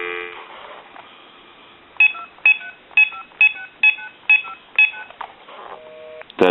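An AT&T 5515 cordless telephone handset dial tone hums, then seven crisp touch-tone beeps sound in a quick, even rhythm before the line tone returns at the end.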